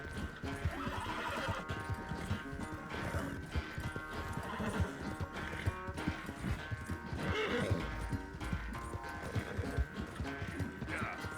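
A horse gallops in Red Dead Redemption 2, rapid rhythmic hoofbeats running steadily throughout, with whinnies and snorts breaking through, fairly loud and close, alone with no talk.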